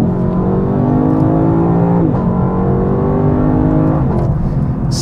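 A 2022 Lexus LC500 in Sport S mode, floored at full throttle, gives a loud, close engine roar. It climbs steadily in pitch, with brief dips at two gear shifts before the revs surge upward again, and no talk.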